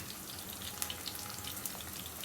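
Curry leaves, ginger garlic paste and turmeric frying in hot oil for an okra and egg curry, giving a steady, fairly quiet sizzle with a few faint pops, and no voices.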